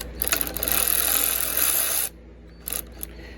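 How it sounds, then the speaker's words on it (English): A ratchet wrench turning a fastener while a carburetor is swapped on an Ariens ST622 walk-behind trimmer: a fast, close run of ratcheting clicks lasting about two seconds, then a brief second burst. "And then I get my ratchet, go the other way, slide it in here."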